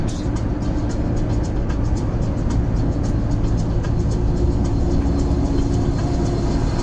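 Heavy truck overtaking on the N3 national road in South Africa, a steady loud rumble of road and engine noise heard from inside a vehicle, continuous throughout with no distinct passing peak.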